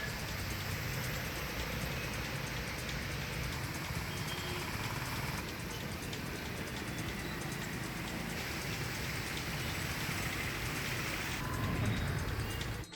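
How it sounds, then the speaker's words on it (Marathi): Steady, dense heavy rain in Dapoli hissing without a break, a broad continuous wash with a low rumble underneath and no voices. "दापोलीत पावसाचा धुमाकूळ सुरू आहे"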